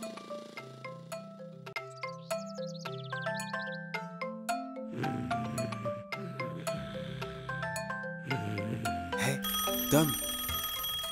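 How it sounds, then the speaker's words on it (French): Cartoon telephone ringing in a French children's animation about a tow truck, heard as a bright, repeated bell-like ringing pattern over a tinkling musical score, loud and close with no talking. "Le téléphone sonne."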